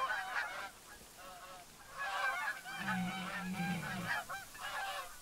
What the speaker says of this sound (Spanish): van bajando los gansos